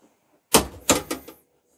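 A brand-new torque wrench set to 33 kilos, pulled on a knurled part, snaps through a sharp click followed by two or three quick rattling clicks, close and alone in an otherwise quiet room.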